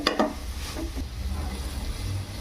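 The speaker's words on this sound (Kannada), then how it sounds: "ಸ್ವಲ್ಪ ಅರಿಶಿನ ಹಾಕೊಳ್ತೀನಿ ರೀ ಚೆನ್ನಾಗಿ ಫ್ರೈ ಮಾಡ್ಬೇಕು" Vegetables frying with turmeric in a pan for vegetable pulao give a steady close sizzle, with a few stirring scrapes near the start and no talking.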